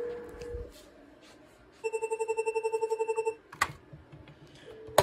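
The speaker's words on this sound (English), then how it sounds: "Let's call the IP phone at the desk." A Cisco IP desk phone rings through its speaker with a rapid pulsing electronic trill lasting over a second, followed by button clicks and a brief tone, heard close with no talking.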